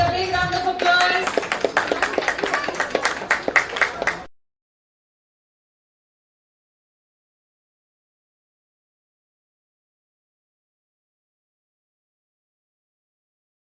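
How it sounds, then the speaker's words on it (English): Applause greets a graduating student at an international school graduation ceremony: a few seconds of crisp, fairly close clapping that stops abruptly, followed by silence. "Let's welcome him with a big round of applause"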